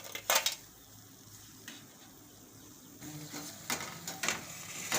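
Potato finger chips fry in hot oil beside clinking utensils, with a soft bubbling hiss broken by sharp metallic scrapes and taps against the pan.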